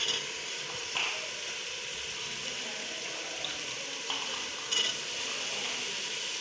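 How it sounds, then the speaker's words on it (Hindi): Cut potatoes going into fenugreek leaves frying in a pan, a steady sizzle running throughout with a few faint spoon clinks and scrapes rising above it. "ये अब आलू हम इसमें डालेंगे मेथी के अंदर।"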